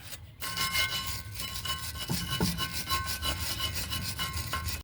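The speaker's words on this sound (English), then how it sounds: "get a wire brush and clean up in all of these grooves, top, bottom, and the ones on the inside as well" A wire brush scrubs the grooves of a rear brake caliper bracket on a 2.5L Nissan Altima, producing a steady, close, rasping scrape with rhythmic back-and-forth strokes that runs without a break and without talk.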